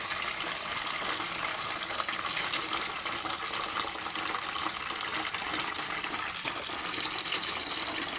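Water rushes steadily through radiator pipes after a valve is opened quickly during radiator cleaning, a constant hissing flow at moderate distance with no pauses.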